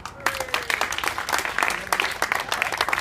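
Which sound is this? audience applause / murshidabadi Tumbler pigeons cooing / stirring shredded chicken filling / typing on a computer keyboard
audience applause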